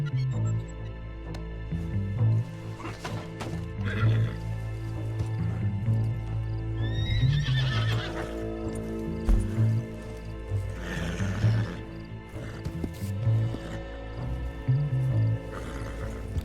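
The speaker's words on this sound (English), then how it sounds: "Is this the horse-drawn carriage gonna take me to the ball?" Horses pull a horse-drawn carriage in Red Dead Online, with snorts, neighs and hoof sounds over a rolling, rumbling wagon and outdoor ambience throughout.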